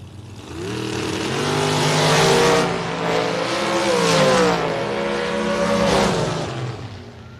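A dragster at the Mutt and Jeff Fall Brawl drag race roars through a run, its engine note rising and falling in loud revving sweeps, with no talk.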